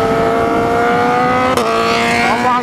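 Yamaha R6 sport motorcycle with a freshly replaced exhaust, its engine droning steadily at close range with a rising tone near the end and a brief sharp pop midway.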